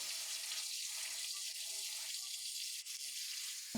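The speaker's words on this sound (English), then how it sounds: "You don't wash mushrooms in water." Button mushrooms are rinsed under a running kitchen tap in a restaurant kitchen, a faint, steady hiss of flowing water beneath people talking.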